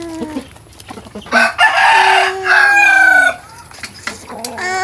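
A rooster crows loudly close by, a long drawn-out call, with chickens clucking in short bursts before and after.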